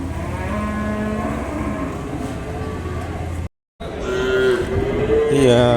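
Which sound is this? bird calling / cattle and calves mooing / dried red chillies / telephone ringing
cattle and calves mooing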